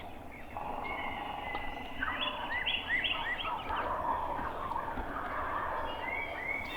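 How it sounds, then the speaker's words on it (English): Wild turkey gobblers in spring woods sound off with rattling gobbles, several overlapping bursts from distant birds, fairly faint and with nobody talking. "These birds still gobbling occasionally"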